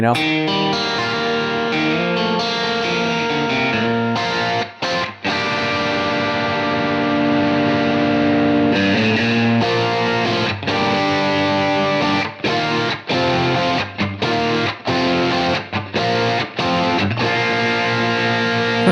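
Electric guitar with distortion and a shimmering chorus effect plays a continuous chord progression, loud and sustained, with brief pauses between strummed chords.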